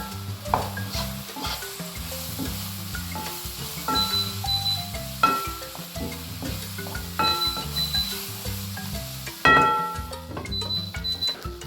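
Leeks, salmon and potatoes fry in a pan as a utensil stirs them, with repeated scraping and clinking strokes over a soft sizzle, close and rhythmic throughout.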